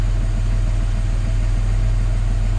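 A Jaguar S-Type car engine idles steadily at around 750 to 800 rpm, a loud, even, low rumble recorded up close with no talking.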